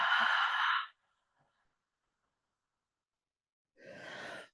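Two deep, audible breaths during a yoga class, heard as a long breathy exhale, a quiet pause, then another breath, close and clear with no talk.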